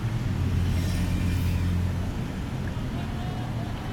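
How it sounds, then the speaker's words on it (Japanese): A relay broadcast car rolls past with a low, steady engine rumble. A voice speaks over the vehicle noise, which fades slightly toward the end. "中継車が通ります。"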